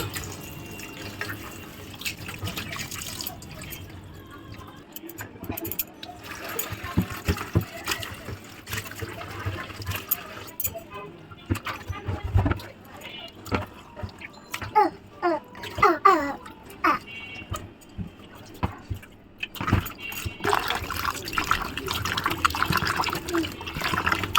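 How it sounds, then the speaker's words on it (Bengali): Cut fish are washed one by one in water at home, with repeated splashing, dripping and sloshing in irregular bursts and occasional clatter, while a person talks at times. "এখন হচ্ছে মাছগুলোকে ধুয়ে নিচ্ছি"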